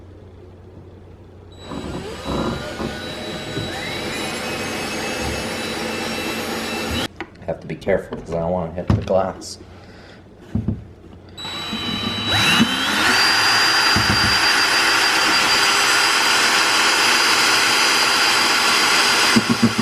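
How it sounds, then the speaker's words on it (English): A power drill whines loudly in long runs, drilling a pipe hole into a wooden curio cabinet, stopping briefly midway while a person speaks, then starting up again at a higher, steadier pitch. "let's start working on drilling a hole for this pipe to go up into the top of the curio cabinet"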